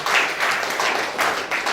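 Church congregation clapping together during a Sunday worship service, a dense steady roar of many hands close and loud for a brief moment, with no talk over it.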